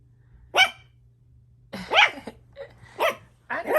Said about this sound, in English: I didn't know you could bark, Miss Mamas.